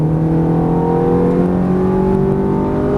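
A Ferrari F430 accelerating hard on a race track, its engine note climbing steadily in pitch, loud and close, with no talking.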